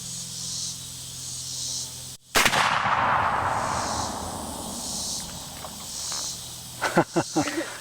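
A single loud blast from a .50 caliber Hawken traditional muzzleloader rifle cracks out of a quiet outdoor scene and trails off in a long hissing decay, followed a few seconds later by some faint clicks.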